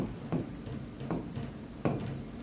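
Pen writing on paper while filling in dates and amounts in an accounting cash book, with three short bursts of scratching strokes at a steady pace, close and quiet, with no talking.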